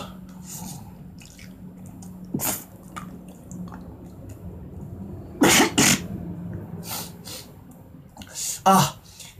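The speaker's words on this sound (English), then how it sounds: "It's like I'm coughing blood." A sick person coughs in several separate sharp bursts, near and fairly loud, with quiet wet, dripping sounds between the coughs.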